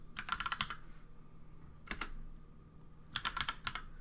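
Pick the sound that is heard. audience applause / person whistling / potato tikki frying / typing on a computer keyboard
typing on a computer keyboard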